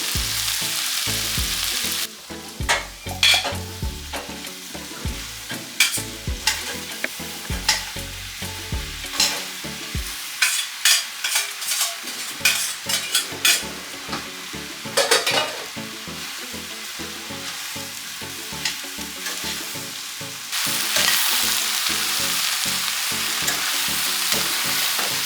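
Steak and vegetables stir-fry in sesame oil in a hot pan, a steady loud sizzle broken by repeated scraping and clacking of a utensil stirring the food, pausing briefly before the sizzling surges back.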